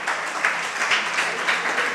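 An audience at a Jain religious discourse claps steadily across the whole stretch, a dense, continuous patter of many hands with small swells, with no one talking over it.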